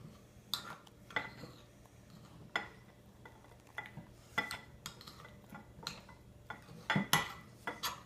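Purple mashed potato being mixed with soy milk in a bowl, a spoon scraping and clinking against the sides in quiet, irregular strokes with no talking.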